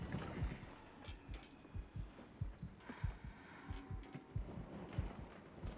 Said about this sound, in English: I hate the heartbeat. It's very disorienting.